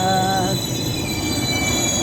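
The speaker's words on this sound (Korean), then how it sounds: "저 시골로 가는 완행열차입니다." A slow local countryside train rolls past with loud, high metal wheel squeal over a rumbling rail noise that holds steady and close throughout.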